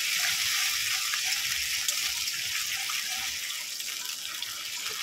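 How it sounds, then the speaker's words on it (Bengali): Water pours into a pan of ginger-garlic paste, a steady hissing gush that is close and fairly loud and carries on evenly for several seconds with no talk. "জল দিয়ে দেবো একটু।"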